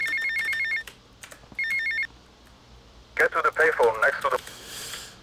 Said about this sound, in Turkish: Telefon kulübesine gitti. Telefon aldık.